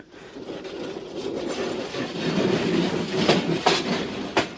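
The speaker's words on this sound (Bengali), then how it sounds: "এই ট্রেনটি বাংলাদেশের দ্রুতগতির এবং বিলাসবহুল ট্রেনগুলোর মধ্যে অন্যতম" The Parabat Express, a fast Bangladeshi intercity train, rumbles along the rails with a steady roar and rhythmic clicks of the wheels growing slightly louder.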